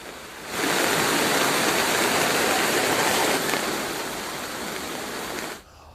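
Monsoon floodwater rushes in a strong river current, the Dhanarjay river in Nawada, as a loud, dense, steady roar that starts abruptly, holds for about five seconds, then cuts off.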